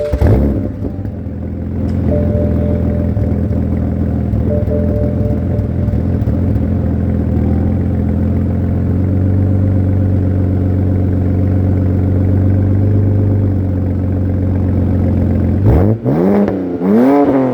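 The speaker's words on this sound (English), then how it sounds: "what it sounds like with the resonator delete and the muffler delete" A BMW 328i E93 convertible with its resonator and muffler removed, its exhaust burbling at idle, then revving loudly with a rising and falling drone, ending in a couple of sharp blips. No voices, just the engine close up.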